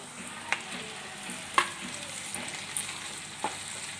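Ground ginger and garlic paste frying with browned onions in a pan for a fish kalia makes a steady soft sizzle, broken by a few sharp spatula taps and scrapes.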